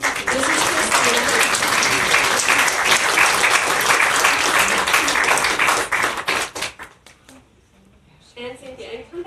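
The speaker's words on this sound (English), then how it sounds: "give them all a big round of applause" Loud, close applause from an audience at a book launch ribbon award, dense clapping that tapers off abruptly, followed by a brief voice talking.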